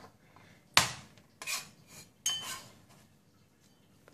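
Knife cutting fresh chili peppers on a board for a chili paste: three sharp, close chopping knocks with a brief scraping rasp after each, separated by quiet pauses.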